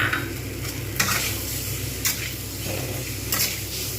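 Tomato, flat beans and potato frying with ginger-garlic paste in a pan, a dense, loud sizzle throughout with three or four distinct spatula stirs cutting through.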